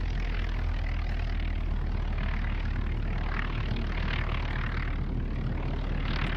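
A propeller aircraft taxiing in the X-Plane 12 flight simulator, a Tiger biplane at Clairmarais Aerodrome, its engine droning loud and steady throughout with a constant low hum and no voices.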